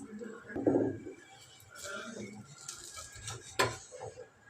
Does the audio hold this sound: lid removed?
yes